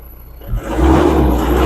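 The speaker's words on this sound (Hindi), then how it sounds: "गाड़ी को हल्का रेस करके देखते हैं।" A Mahindra Bolero BS4 pickup engine idles, then is lightly revved. Its loud, steady roar swells after a brief quieter start and holds level, close and alone.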